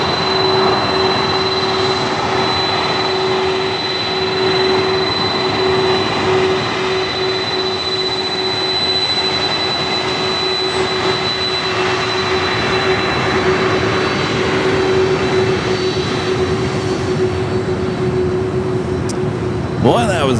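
A United airliner landing on runway 25 left at LAX passes close by, its loud jet engine roar holding steady for about twenty seconds, with a steady whine riding over it.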